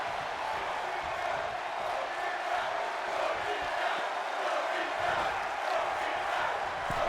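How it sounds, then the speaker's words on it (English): A wrestling crowd chants and roars during a live match, a dense continuous mass of voices that holds steady throughout. "I don't know what the crowd is chanting"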